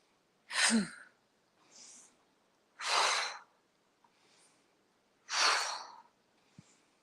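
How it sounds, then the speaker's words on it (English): Slow, deliberate breaths during a qigong exercise: three loud, drawn-out breath sounds a couple of seconds apart, each followed by a softer, shorter one, close to the mic with no talking. "Inhale, exhale. Inhale, exhale. Again, in."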